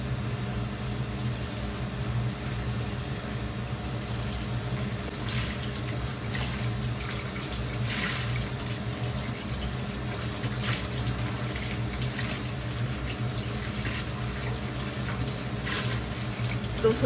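Tap water runs steadily into a sink while shiso leaves are washed for making shiso juice, with soft splashing and occasional clinks of dishes, continuous throughout at moderate volume.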